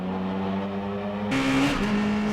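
A race car on a time attack lap at Nikko circuit holds a steady engine drone, then a louder, brighter burst of revving as it accelerates hard nearby, with no talk over it.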